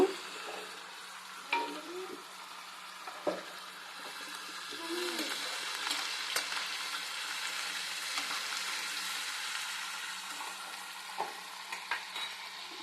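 Tomatoes and chilies fry in a pan with a soft, steady sizzle, broken by occasional scrapes and taps of a stirring spoon; the sound stays close, and no one speaks.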